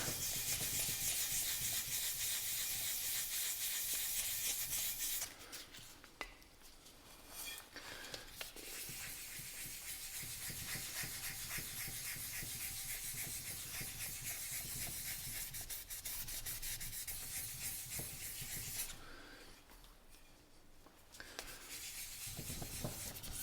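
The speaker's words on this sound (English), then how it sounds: "I'm hardly getting any on the sandpaper." Hand sanding of hard old paint on a 1930s Sears lantern, a close, steady scratchy rubbing that carries on for over twenty seconds with a couple of brief pauses.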